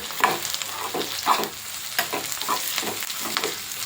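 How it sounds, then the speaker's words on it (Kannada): Cumin seeds and dried red chillies frying in hot oil while being stirred, a steady sizzle broken by repeated scraping stirs at an irregular pace, close up with no talking. "ಜೀರಿಗೆ ಮತ್ತು ಒಣಮೆಣ್ಸಿನ್ಕಾಯಿ ಜಾಸ್ತಿನೇ ಹಾಕ್ತಾಯಿದ್ದೀನಿ ಬಿಕಾಸ್ ಖಾರ ಅಲ್ವಾ ಅದಕ್ಕೇ ಇದನ್ನು ಫ್ರೈ ಮಾಡ್ಕೊಳ್ಳೋಣ"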